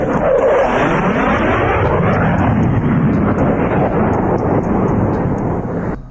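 An F-22 Raptor fighter jet roars past loud and close, a broad thunderous engine rumble with a sweeping pitch shift early on, holding strong throughout before easing slightly at the very end.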